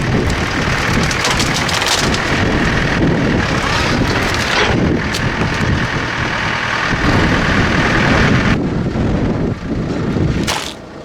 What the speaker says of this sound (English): I'm fed up with that blooming wind